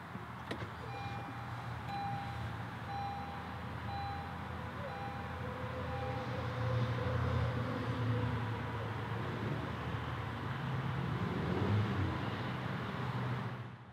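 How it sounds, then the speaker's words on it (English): A 2018 Honda CR-V EX-L starting by push button, after which the engine settles into a steady, fairly quiet idle hum that swells slightly in the second half, with a faint beep near the start. "Okay, so let's go ahead and start it up."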